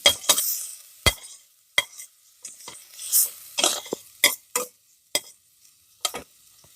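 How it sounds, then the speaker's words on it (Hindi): Ground ginger garlic paste is stirred into a pan for mushroom soup: a series of close, sharp scrapes and clinks from a utensil against the pan, coming in irregular bursts with brief quiet gaps between. "अब हम इसमें अदरक लहसुन का पेस्ट डाल देंगे।"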